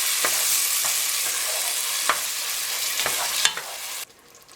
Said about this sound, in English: add another tablespoon of olive oil and your drained tomatoes. And then you're just going to cook those for another 3 to 4 minutes.